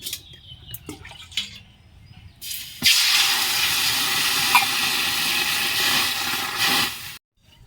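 Water poured onto fried moong dal in a hot wok: a few clinks, then a sudden loud, steady hissing sizzle that lasts several seconds before stopping abruptly.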